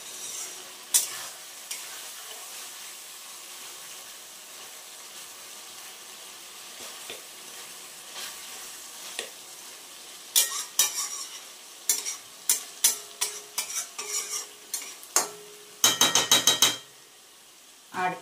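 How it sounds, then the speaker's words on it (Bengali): Taro stems frying in oil in a pan, a soft steady sizzle broken by quiet scraping stirs that turn into quick clinking strokes of the utensil toward the end, with no talking. "তো এবার এটাকে আমি ভালো করে তেলের সাথে নেড়ে চেড়ে তারপরে একটু ঢেকে দেবো।"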